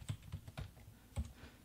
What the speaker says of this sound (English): let's begin by typing the index formula.